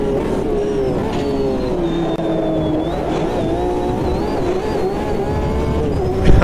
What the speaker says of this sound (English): Oh, the noise over the curves when it revs out.